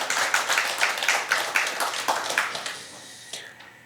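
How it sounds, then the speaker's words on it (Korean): Small outdoor crowd at a civic group's press event in front of the Chosun Ilbo newspaper building clapping in encouragement: brisk, close handclaps that thin out and fade away after about three seconds. "우리 힘찬 격려의 박수 부탁드리겠습니다"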